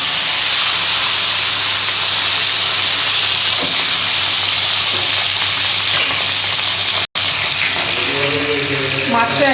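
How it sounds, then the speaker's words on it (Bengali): Salt-and-turmeric-marinated small rohu fish fry in hot oil, a loud, dense, steady sizzle and hiss close up, with a brief dropout and faint voice-like tones toward the end. "মাছটা আমি ভেজে নেব।"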